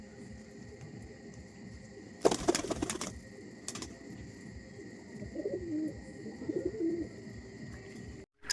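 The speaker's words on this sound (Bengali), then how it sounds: "আর সব কটা পায়রারই এই যে প্রায় খাওয়া দাওয়া হয়ে গেছে" Pigeons coo softly and intermittently after feeding in their loft, a low background murmur broken by a brief burst of wing flapping or shuffling, with faint insect-like chirping throughout.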